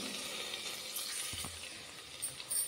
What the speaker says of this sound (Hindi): अब सभी को अच्छे से मिक्स करके इसे हमें भून लेना है थोड़ी देर।